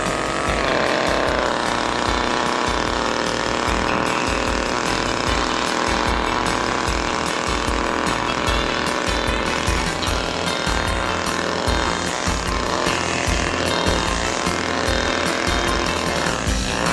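A chainsaw runs at full throttle, a loud, dense, continuous buzzing roar that never lets up for the whole stretch, with no voices over it.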